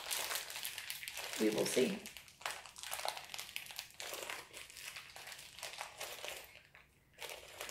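Plastic packaging for a Lego Pikachu set crinkles and crunches in close bursts as it is worked open, with a person talking over it throughout.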